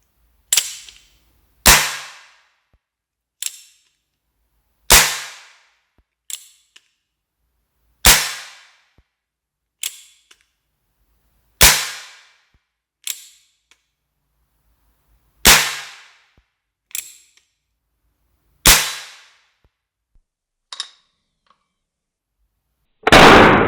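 Full-metal Denix replica revolver firing cap shells, the cap cartridges loud and sharp, with about ten separate bangs spaced irregularly a second or two apart and brief quiet between them.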